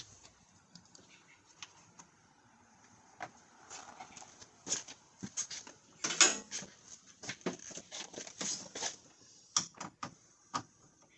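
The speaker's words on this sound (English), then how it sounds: "I'm going to put the AC machine hoses back on" Hoses from a Solar 5101 AC machine being reconnected to the air-conditioning ports of a 2009 Buick Enclave: a string of light clicks, taps and snaps of metal and plastic fittings, irregular and close, with no talk.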